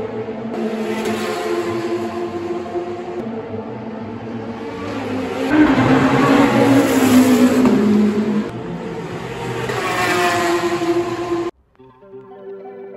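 Race cars roar past on a racing circuit, engines rising and falling in loud successive waves as each car sweeps by, with one especially strong pass in the middle before the sound cuts off abruptly.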